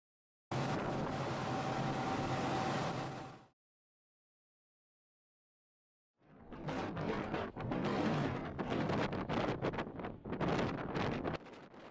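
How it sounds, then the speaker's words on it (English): Strong gusting wind on a ferry deck roars against the microphone in two loud bursts separated by a few seconds of silence, buffeting and rumbling throughout. "It's very windy here."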